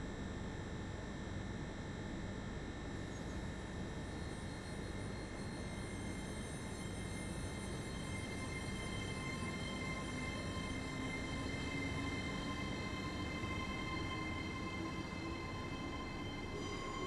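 A passenger train in Train Simulator pulls away from Liverpool Lime Street toward Manchester Victoria, its steady engine drone and rolling rumble continuous and close, with no voices.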